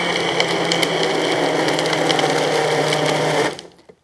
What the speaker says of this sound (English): It's going to take a little extra blending because of the frozen blueberries.